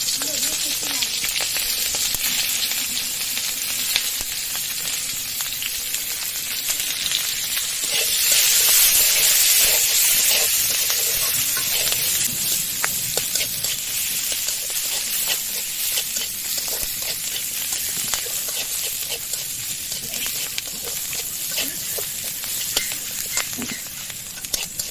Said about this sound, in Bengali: এবার আমি যে পেঁয়াজের পাপড়িগুলো ছাড়িয়ে রাখছিলাম এগুলো হালকা করে ভেজে নেব